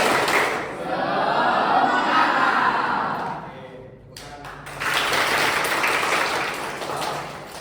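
A group performs the 'Tepuk PCO' clap chant before a warm-up exercise, with voices chanting together in rhythm, a brief lull, and then a second stretch of broad group clapping and chanting.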